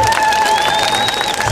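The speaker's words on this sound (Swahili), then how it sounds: "Watu wa Arusha, makofi kwa baba askofu tafadhali." Crowd at an outdoor political rally in Arusha claps and cheers briefly, a loud wash of applause with a whistle-like tone running over it.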